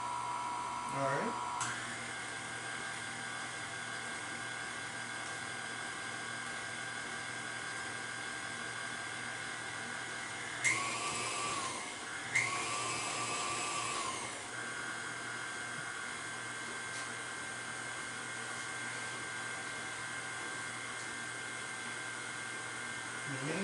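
Electric mixer whirring steadily through chocolate peanut butter cake batter, a continuous high buzzing drone that holds for the whole stretch with only a brief dip and surge partway through, close and fairly loud.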